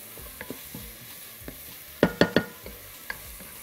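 Onion and minced garlic sautéing in a pan hiss faintly while a utensil stirs them, with a few soft scrapes and then a quick burst of three sharp clanks against the pan near the end.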